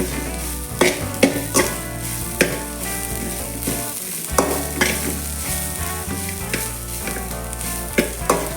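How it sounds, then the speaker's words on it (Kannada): Grated coconut and garlic fry in a pan with a steady sizzle, broken by the regular scrape and clatter of a spoon stirring them, heard up close with no talk. "ಪರಿಮಳ ಬರುವ ತನಕ ಫ್ರೈ ಮಾಡ್ತಿರ್ಬೇಕು"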